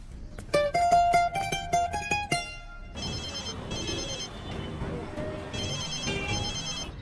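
A telephone rings in a quick series of bright, repeated tones for a few seconds, then stops, leaving a murmur of background noise and faint tones.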